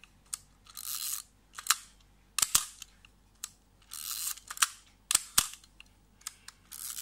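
A camera's shutter fires repeatedly at slow shutter speeds, each sharp mechanical click of opening and closing spaced out in an uneven rhythm, faint and close, with no talk over it.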